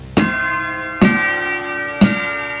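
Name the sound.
synthesizer bell sounds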